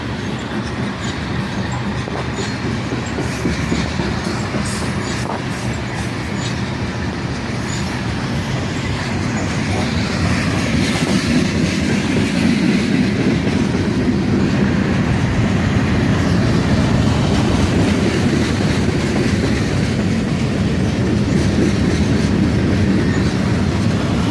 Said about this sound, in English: Hear these two locomotives working hard to slow down this manifest train.